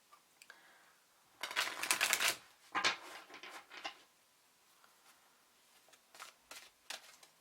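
Tarot cards are shuffled close by in soft, papery riffles and slides, with a dense flurry early on and a few lighter flicks and taps afterward in an otherwise quiet room.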